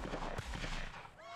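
Gunshots in Papers Please: a short, quiet burst of rapid gunfire from the game's border checkpoint, with dull, muffled cracks running together over a second or so.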